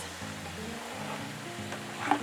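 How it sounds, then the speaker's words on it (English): Mushrooms and diced tomatoes stirred in a paella pot, giving a steady low sizzle with soft scraping and stirring close up, no talk. "We're gonna give that all a good stir"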